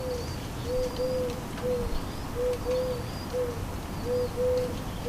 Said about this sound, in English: That's not a pigeon. The brown dove is in their tree.